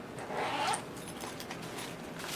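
Zipper on a small baby-pink Dior zip pouch, opened or closed in one quick rasping pull up close, followed by light handling rustle.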